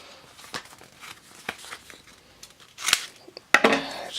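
Scissors snip several times at close range, cutting open packaging, with a few sharper, louder cuts and rustling near the end.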